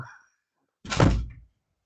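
A door slamming shut inside a house: one heavy, fairly loud thump with a short rumbling tail, after a brief faint sound and then silence.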